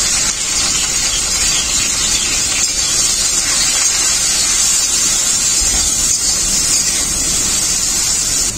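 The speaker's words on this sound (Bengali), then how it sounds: "তেল খুব ভালোভাবে গরমই হয়ে গেছে, ভেন্ডিগুলো ভেজে নেব।" Okra frying in hot mustard oil in a kadai, a loud, steady sizzle and hiss that carries unbroken at close range with no talk over it.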